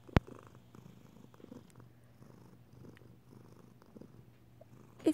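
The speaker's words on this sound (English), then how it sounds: "Is that your little purr?" A cat purrs softly and steadily up close in a quiet room, a faint rhythmic rumble with a sharp click at the start and end.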